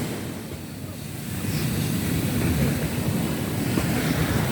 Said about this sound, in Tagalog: Nagagalit yung dagat